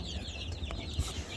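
Chicks in a heated brooder give soft, quick chirps over a low steady hum, fairly close and with no speech.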